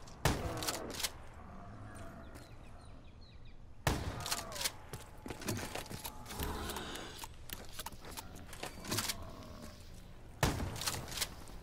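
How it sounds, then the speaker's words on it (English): Explosions and gunfire in a Black Ops 3 nightmare-mode match, sharp bursts and crackling volleys with loud blasts near the start, middle and end, between busier stretches of distant shooting. "Explosions."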